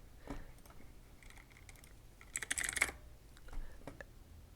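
A computer keyboard is typed on in a quiet room, with soft scattered keystrokes and then a quick burst of clicks, faint and close, with no talking.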